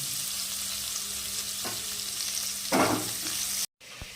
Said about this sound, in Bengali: একটা বড় পেঁয়াজ কুচিয়ে রেখে সেটা দেবো আর লাল করে একটু ভেজে নেব